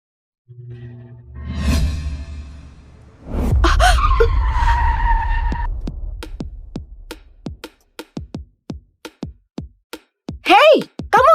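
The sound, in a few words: car speeding and braking hard in front of a person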